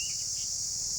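A cicada calls continuously as a steady, loud, high-pitched buzzing drone out in nature, unbroken from start to finish with no other sounds or voices alongside it.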